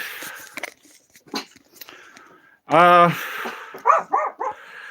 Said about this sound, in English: there's my quarantine dog